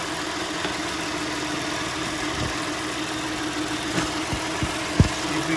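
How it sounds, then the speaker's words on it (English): A car engine idles steadily under the open hood, its alternator, AC compressor and balancer pulleys turning on the belt, giving a constant low hum with a few faint ticks and knocks. "The alternator's spinning, AC compressor's spinning. It's running true on the balancer."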